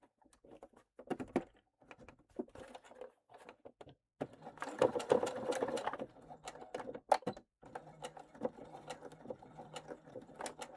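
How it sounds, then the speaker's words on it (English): A sewing machine stitches a fabric bag piece in bursts of fast rhythmic clatter with brief pauses between runs, close and moderately loud, with no talk. "I'm sewing it on really well because I really don't want this to shift when I'm constructing the bag."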